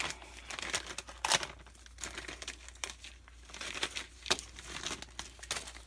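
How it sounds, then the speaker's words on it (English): Black deco mesh is crinkled and handled at close range, giving irregular crackling bursts and sharper rustling crunches with quiet gaps between, no voices. "This is that black deco mesh."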